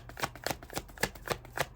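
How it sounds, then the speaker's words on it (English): Tarot cards being shuffled in the hands, a run of about seven crisp riffling bursts in a steady rhythm, close and clear with no voices. "one card has fallen out from all this shuffling that I've done"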